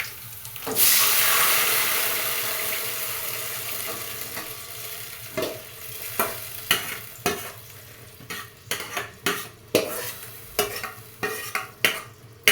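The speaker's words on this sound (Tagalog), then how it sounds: "Hulog na po natin ang munggo" Mung beans tipped into a pan of sizzling liquid with a soft rushing pour, then stirred with a utensil, giving a series of irregular scraping knocks over a low bubbling background, no talking.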